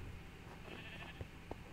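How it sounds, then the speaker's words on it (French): Sheep bleat in a Minecraft village, two short mid-range calls near the end over a steady background of game ambience. "Des petits moutons."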